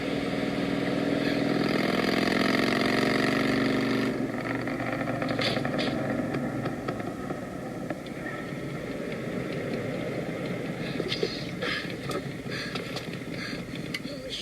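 A motorcycle engine idles with a steady mid-pitched drone close by, fading a little after a few seconds as faint clatter and brief noises come and go over it.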